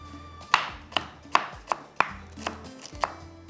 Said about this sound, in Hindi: अदरक हम ज़रूर काट के डालेंगे, बारीक बारीक कटी हुई।